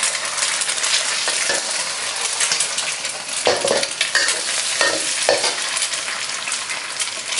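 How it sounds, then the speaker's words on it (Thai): Garlic fries in hot oil in a wok for Thai fried rice with kale and salted fish, giving a loud, steady sizzle with scraping stirs and a few sharp clinks from a spatula, and no voices. "น้ำมันร้อนก็ใส่กระเทียมลงไปเกี่ยว เจียวให้เหลืองหอมเลยนะคะ"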